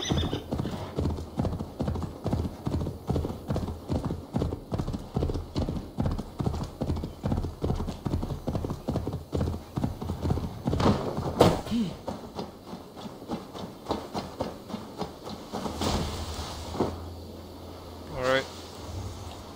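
Rapid, steady clip-clop of galloping hooves in Assassin's Creed Valhalla runs throughout, with a brief horse whinny near the end and game sounds layered in.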